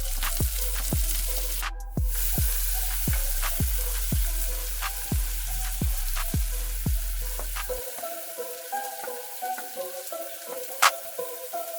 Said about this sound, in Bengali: এরপর টমেটো আর কাঁচামরিচ দিয়ে কিছুক্ষণ নেড়ে চেড়ে রান্না করলাম।